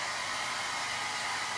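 A hair dryer blows steadily at close range while a foam-sheet Halloween lollipop craft is dried, a continuous even hiss with no pauses or talking over it.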